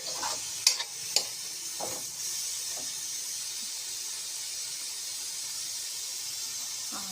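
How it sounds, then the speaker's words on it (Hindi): Green chilies and leafy greens (saag) sizzle in hot oil, a steady close hiss broken by a few sharp utensil clinks near the start, with no talking. "तेल डाल देलहुँ मिरचाई डाल दै छी"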